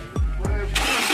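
A car engine cranks on its starter motor after the starter has been repaired: two quick cranking bursts, then the engine catches and runs with a steady, loud idle, close to the microphone.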